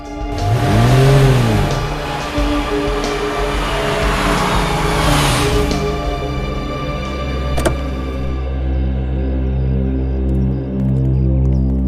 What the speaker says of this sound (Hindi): गाड़ी लगा लो यहाँ पे।